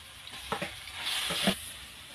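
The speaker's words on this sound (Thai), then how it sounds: "ผัดกระเพราหมูกับปลาหมึก ใส่ลงไปหมู" Pork and squid stir-fried with holy basil in a hot pan, a close, steady sizzle with a few scraping stirs and no talk.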